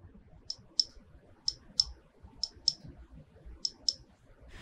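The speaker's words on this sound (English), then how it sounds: "if you touch on the flashlight icon from the lock screen, you kind of have to 3D touch on it, but it now makes a clicky sound." Crisp, close clicks from the flashlight icon on an iPhone lock screen running iOS 12.1, heard as eight sharp taps in loose pairs over faint background noise.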